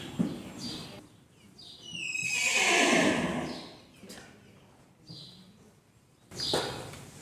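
A big horse neighing: a loud, drawn-out whinny rising and falling in the middle, with shorter snorts and squeals around it and a final burst of noise, close by and without talking.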